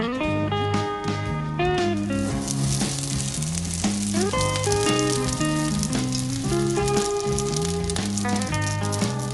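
Stuffed aburaage tofu pockets frying in a pan, a dense, steady sizzle and crackle running throughout beneath prominent background music.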